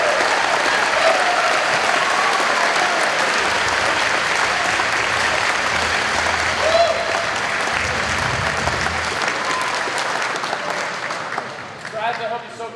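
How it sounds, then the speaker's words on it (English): Sustained crowd applause for cadets after their parade at an annual cadet inspection, broad and steady for most of its length before thinning out near the end, with some voices mixed in. "Give yourselves a round of applause to them."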